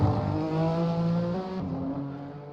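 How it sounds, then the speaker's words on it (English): Vintage race cars in the IMSA Vintage Championship at Road America roar past, with a loud, rising engine drone that shifts pitch as a car goes by, then fades slightly. "Just listening to these cars go around."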